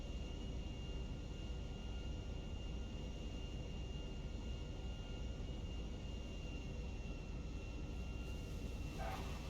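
Continuous, even aircraft engine drone from an airplane flying and coming in to land in the GTA V video game on PC, a steady hum without voices throughout.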